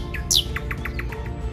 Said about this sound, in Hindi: रोशन सुबह की नवीद सुनाते ये चहचहाते परिंदे